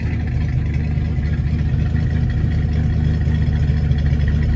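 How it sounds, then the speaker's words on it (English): A 1958 Plymouth Fury with fuel injection idles steadily with its exhaust set to quiet mode, a low, even engine rumble close by and alone. "Let's put the exhaust quiet here real quick here so everybody can hear how quiet it is."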